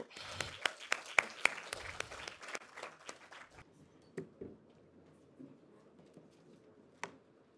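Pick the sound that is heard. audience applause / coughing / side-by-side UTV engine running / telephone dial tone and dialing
audience applause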